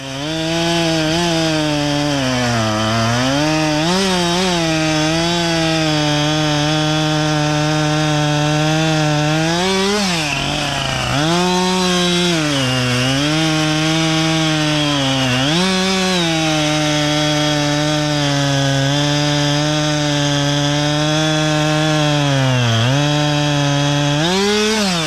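Chainsaw bucking a felled tree into 16-inch firewood rounds in heavy snow, the engine droning loud and close with rising and falling pitch as it bites through each cut, briefly dipping around mid-clip before revving again.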